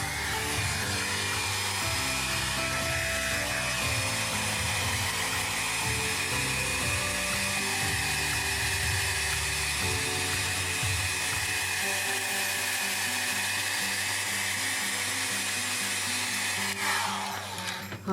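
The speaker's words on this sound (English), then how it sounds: "let's hit it with a blow dryer to dry all that ink" A steady, loud whirring blow dryer drying ink on a coloring page runs continuously close by, its drone holding nearly constant before cutting off at the very end.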